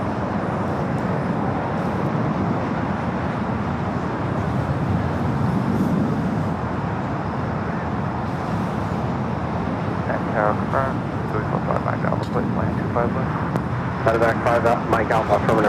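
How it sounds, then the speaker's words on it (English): A Delta Airbus A321neo touches down on the south side at LAX, a steady broad jet roar that holds throughout under intermittent talk. "It's Delta A321 Neo touching down here on the south side."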